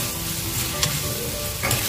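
Chopped tomato, onion and green chilli sizzle steadily in hot oil for a mackerel curry, with a continuous crackle and two brief stirring scrapes; close and alone, no talk.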